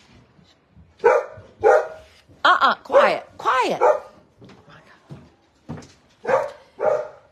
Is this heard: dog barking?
yes